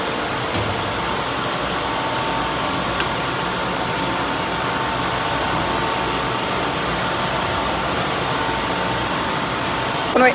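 A compressor runs with a steady, even broadband hum and hiss at moderate level. It stays constant throughout, with a couple of faint clicks.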